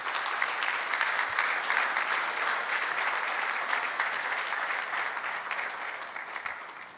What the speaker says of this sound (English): please, another round of applause as we award the minister